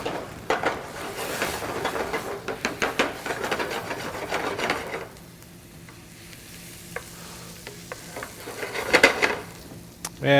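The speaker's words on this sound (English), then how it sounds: "As soon as I start smelling the toasting of the rice, I'm going to deglaze this with brandy." Risotto rice toasting in a hot pan, then deglazed with brandy: busy sizzling and a spoon stirring and scraping against the pot, louder at first and calmer in the second half.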